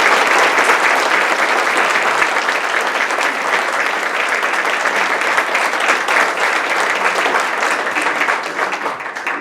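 A business expo audience applauds speaker Kim Hodous with loud, dense, sustained clapping that holds steady for nearly the full stretch before easing slightly at the end.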